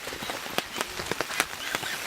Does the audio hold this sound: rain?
yes